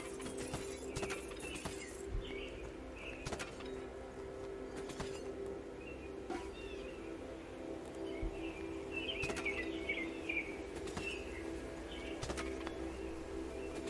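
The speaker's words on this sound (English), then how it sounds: "Okay, is that chirping in the game?" Birds chirping, either outdoors or in the Domina video game, soft scattered chirps and tweets over a low steady hum, with faint clicks breaking through at intervals and no talking.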